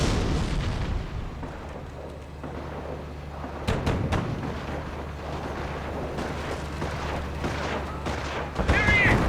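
Mortar half-tracks shelling an anti-tank gun in Company of Heroes: a dense wartime battle din of booming impacts and scattered gunfire, with sharper blasts standing out from a constant low rumble and no clear speech.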